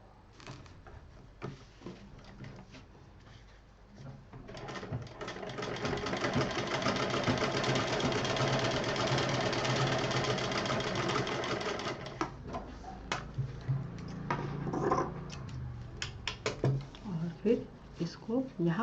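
A sewing machine stitches piping along the side of a fabric scissor case, running in a steady continuous whir for several seconds before breaking into short bursts, with speech nearby.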